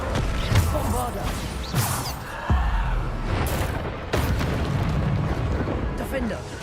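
Bombarda spell blasts in a Hogwarts video game erupt as repeated booming explosions, several in quick succession over a dense, rumbling game soundscape.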